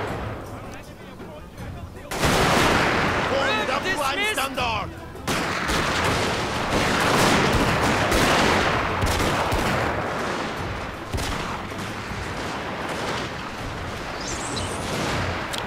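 Musket volleys crackle across a Shogun 2: Fall of the Samurai land battle. A sharp, loud volley erupts, breaks off briefly, then gives way to sustained dense rolling gunfire that slowly thins out.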